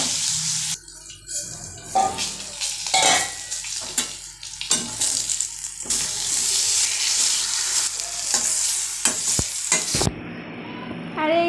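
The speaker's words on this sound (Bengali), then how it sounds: "আর এখন বসাবো বেগুন ভাজি।" Eggplant fries in hot oil in a pan, a loud, close sizzle broken by scraping stirs and clinks, with a brief run of water near the end.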